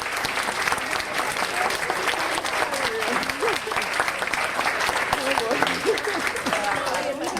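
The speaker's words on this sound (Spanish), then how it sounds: "yo quiero empezar pidiendo un aplauso para la heroína de la vida de Eloy, que es Alina" An audience at a book talk in Miami applauds warmly, a dense, steady wash of clapping that holds at an even level throughout, with a few voices calling out beneath it.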